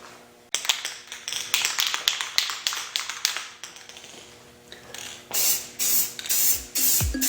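Spray paint from an aerosol can coating toilet seat pieces hung on a hanger: a close series of short and longer hissing bursts with brief pauses, separated by faint clicks and taps of the nozzle.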